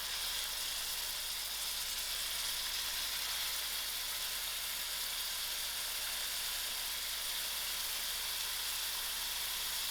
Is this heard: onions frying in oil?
yes